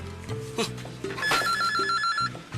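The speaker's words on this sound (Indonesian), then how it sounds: "sebentar, ada telepon dulu." A telephone rings in an indoor comedy sketch, with a bright electronic trill repeating in a short burst, heard over low background sounds and brief vocal noises.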